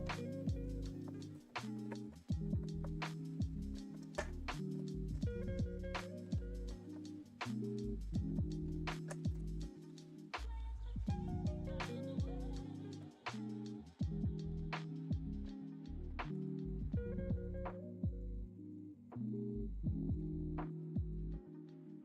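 A home sewing machine stitches a jacket seam, its motor throbbing in a rhythmic, uneven hum with repeated clunking pulses that sound strained, close and loud, with no talking.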